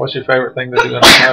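A child gives a single loud, sudden sneeze right after an adult's spoken question, in a snowy winter setting.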